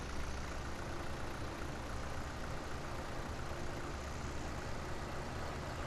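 A tractor engine idles with a steady, low, continuous drone in the farming game Farming Simulator 17, unchanging and alone without talk.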